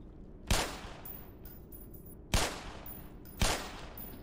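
Gunfire from a weapon in the video game Black Mesa, heard as three separate sharp shots spaced about a second apart, each with a short decaying tail over a steady low background.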